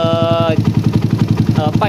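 A motorcycle engine fitted with a PWK carburettor revs hard near 12,000 RPM, a loud, steady buzzing drone with rapid regular pulsing, close up and filling the whole clip.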